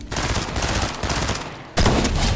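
Dense, sustained gunfire in the video game Fortnite, loud and continuous with a sharp jump in intensity near the end, no talking.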